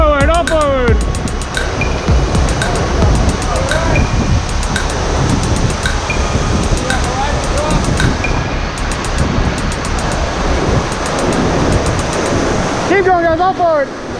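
Whitewater rapids roar loud and continuous near a waterfall during a rafting run, a dense rushing wash that fills the whole stretch, with shouted voices breaking through at the start and end.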